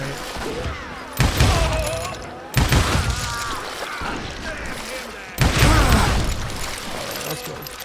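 Gunfire in the Western shooter Call of Juarez: Gunslinger, loud bursts of shots and impacts arriving in three heavy waves over a dense game soundscape, with a player talking throughout.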